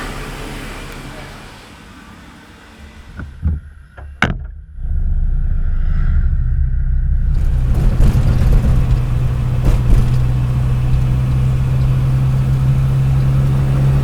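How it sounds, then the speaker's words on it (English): A car driving through town on Koh Phangan, Thailand: a quiet stretch with a few clunks, then a steady engine and road rumble rising and holding close, with traffic noise around it. "Now we're just driving back through town on our way to the Raja ferry port."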